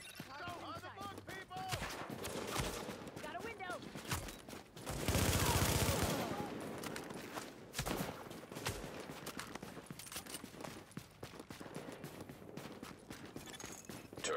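Dense rapid gunfire erupts around a friendly fortification during a Last Stand match in a shooter video game, with overlapping bursts, mechanical clatter and a loud sustained blast midway, continuing throughout.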